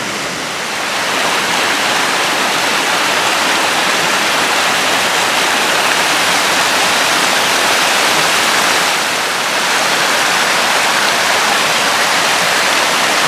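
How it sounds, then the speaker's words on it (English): Creek water rushes steadily around a logjam with foam buildup, a loud, continuous broadband roar that stays close and even throughout, with no voices over it. "Hopefully you guys enjoy this little peaceful look at the creek here."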